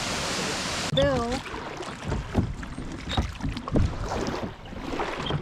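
Oars work a small rowboat through shallow water on Lake Superior, with irregular splashes and water sloshing close by, soft wind in the background and a brief high voice near the start.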